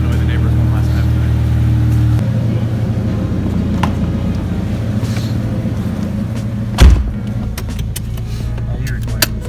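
Modified Nissan Silvia exhaust idling nearby with a low, throbbing rumble that shifts tone partway through, joined by a sharp thump like a car door and light clicks.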